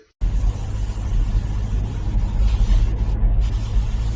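A car on the road to a car boot sale, its engine and tyre roar heard steadily from inside, a continuous low rumble with broadband road noise and no talk.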